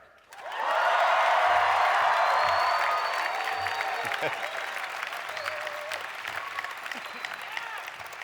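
New students cheer and applaud at a university opening convocation ceremony, a large crowd roaring loudly right from the start with whoops, the din sustained and slowly easing while scattered shouts rise above it.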